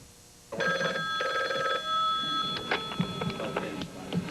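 A telephone rings in a substitute teacher office: a loud, near electronic bell trilling in repeated bursts, followed by a few clunky handling clicks, with no speech.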